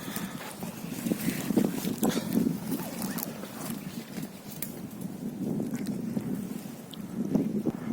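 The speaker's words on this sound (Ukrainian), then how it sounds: "сьогодні такий вітер" Steady, blustery wind rumbling across the microphone outdoors in a forest on an overcast day, with a continuous low buffeting that swells and eases throughout.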